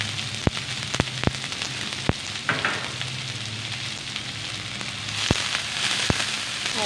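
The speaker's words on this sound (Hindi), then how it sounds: "और 1 मिनट के लिए सौते कर लेते हैं प्याज को" Chopped onions sauté in hot oil in a pan with a steady close sizzle, broken by a few sharp clicks and scrapes of stirring.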